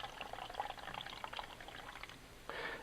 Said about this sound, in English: the first thing I want to do is fill up this jar, this little cup,